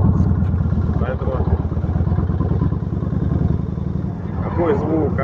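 A Yamaha XV 1600 Road Star cruiser motorcycle engine runs with a deep, pulsing low throb, close and steady, while someone talks over it.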